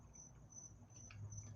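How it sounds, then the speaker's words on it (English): Crickets chirp outdoors beside a pond in a steady, high, shimmering trill that pulses faintly over a low background rumble, quiet and continuous with no voices. "it's just the crickets right now"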